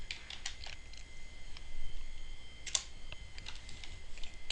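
Keys clacking on a computer keyboard during a C++ programming lesson, a scattered run of light, quick taps at close range over a quiet room with no talking.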